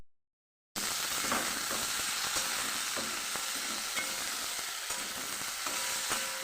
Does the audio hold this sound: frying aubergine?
yes